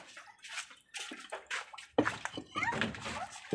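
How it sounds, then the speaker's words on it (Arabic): Hot water gushes from a tap into a bathroom tub or basin, a steady splashing flow with a burst of spattering partway through, while people talk close by. "بصوا الميه نازله ايه، نازله مولعه نار والله."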